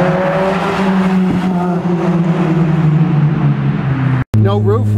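Lotus Exige S sports car accelerating hard with a loud, steady exhaust drone that climbs through the revs, broken by a brief gap for a gear change before pulling again; people talk over it.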